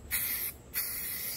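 Rust-Oleum Painter's Touch Ultra Cover flat black spray paint hisses out of the can through a trigger attachment in two close bursts, the second one longer, with a short pause between them.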